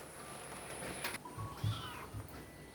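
A cat being given food lets out a couple of faint, short meows against a quiet background, with a brief rustle just before.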